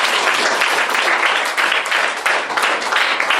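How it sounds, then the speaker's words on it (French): Sustained applause from a school audience at a World Wildlife Day celebration, a dense steady wash of many hands clapping for the full length, loud and close with no talk over it. "Est-ce qu'on peut acclamer pour lui?"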